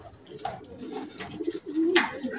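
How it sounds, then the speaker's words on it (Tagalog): Homing pigeons coo repeatedly at close range after arriving from a race in Candelaria, Quezon, with soft, throaty calls rising and falling over a low background. "5 ibon natin guys, si Big Check."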